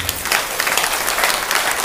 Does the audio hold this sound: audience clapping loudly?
yes